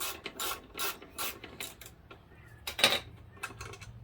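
A 5 mm hex ratchet tool loosens the front fender bolts on a Honda CBR500 motorcycle, giving close, quick bursts of ratcheting clicks in short strokes with brief pauses between them.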